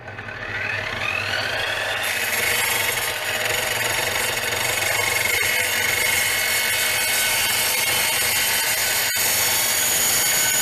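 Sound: GTM miter saw cutting wood at a 15-degree angle

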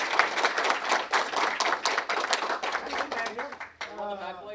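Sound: audience applause for a speaker

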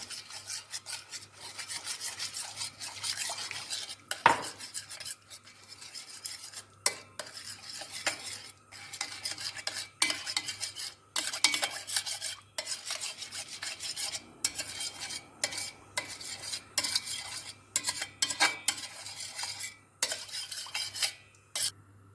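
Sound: stirring sauce made with boiling water

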